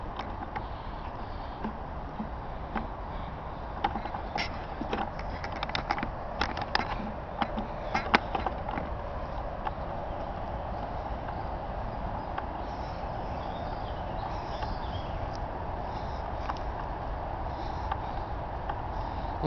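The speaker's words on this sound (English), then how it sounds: "That's the sound of the Interstate Highway 70" Steady traffic roar from Interstate Highway 70 in St. Charles, Missouri, a continuous broad wash of passing vehicles heard from nearby, with scattered brief clanks and creaks rising over it midway.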